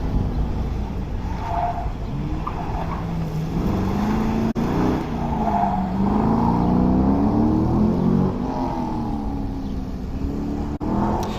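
A yellow car runs an SCCA autocross course, its engine note rising and falling steadily throughout, heard at moderate distance without any talk over it.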